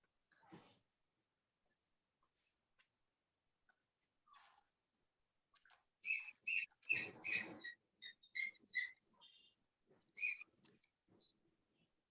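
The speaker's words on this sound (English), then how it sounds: "We have a bird sound." Small bird calls in a room: faint scattered clicks at first, then a burst of high, sharp chirps and squeaks in quick irregular clusters, fairly close and clear against quiet.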